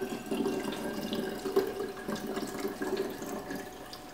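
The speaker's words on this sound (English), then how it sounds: "we can go ahead and pour your kombucha into your bottles." Kombucha pours steadily into bottles with a gurgling, trickling sound, close by and continuous.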